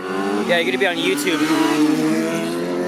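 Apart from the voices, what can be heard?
car engine revving on the street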